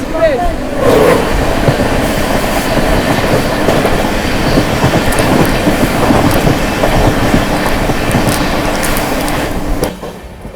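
The Anand Vihar–Sairang Rajdhani Express rushes past, heard from aboard a moving train. There is a loud, steady roar and clickety-clack of wheels over rail joints, with faint voices underneath, before it cuts off at the end.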